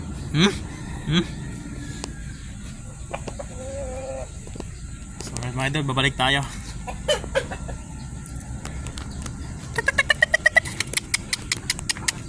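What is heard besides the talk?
shamo gamefowl chickens clucking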